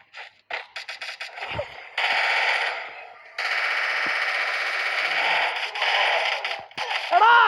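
Firecrackers crackle in dense, rapid strings of pops, first in short scattered bursts and then in long sustained volleys, loud and close with a whistling rise at the end.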